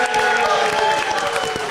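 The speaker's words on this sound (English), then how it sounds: "A round of applause," Convention audience at a live tabletop pirate game session applauding, a brief, dense burst of crowd clapping sustained across the short moment.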